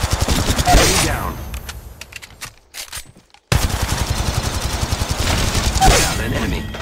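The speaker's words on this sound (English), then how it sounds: "The enemies are shooting at me." Rapid automatic gunfire in the Apex Legends video game, dense loud bursts that thin out, drop to near silence for a moment, then resume as sustained close shooting.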